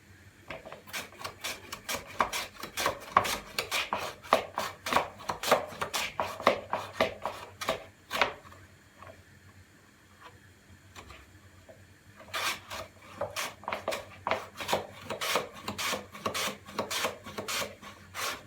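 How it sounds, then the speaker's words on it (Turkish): Rapid rasping slices repeat in quick bursts as potatoes are sliced thin for chips, a short pause midway, then the steady scraping rhythm resumes close by with no talking. "patateslerinizi doğrayabilirsiniz arkadaşlar"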